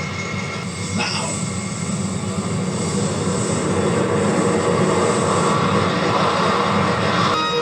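Aircraft engines roaring during takeoff in a Doctor Who episode, a loud, steady, broadband jet rumble with a brief whine, continuous throughout with no voices.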